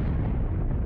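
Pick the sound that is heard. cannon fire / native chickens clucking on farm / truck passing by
cannon fire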